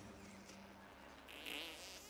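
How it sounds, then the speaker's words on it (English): A short, raspy fart sound effect from South Park: The Stick of Truth video game, fairly quiet and lasting about two seconds, with a brighter buzzy burst near the end. "Did I just fart? Was I just thinking about farting?"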